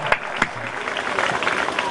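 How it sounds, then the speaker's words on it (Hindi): Crowd clapping at a Shri Ram Katha religious gathering in Bijjuwali village, Haryana: a dense, steady patter of many hands that opens with a couple of sharper, louder claps and then holds even for two seconds. "आप जोरदार तालियां बजाएं"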